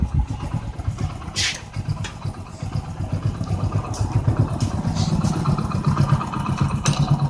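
A Hero Splendor Pro motorcycle engine idles steadily and fairly close, a continuous low throbbing rumble with a few brief higher clicks or hisses over it and no talk.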